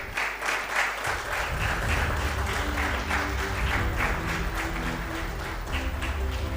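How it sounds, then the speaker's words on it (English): An audience at an educational mentoring program gives a sustained round of applause, dense and even, with a low hum running underneath. "Big round of applause."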